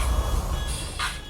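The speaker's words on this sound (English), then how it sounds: "Sorry for the sound, that is my alarm." A phone or clock alarm gives a short high beep over a low, steady background rumble, with no one speaking during it.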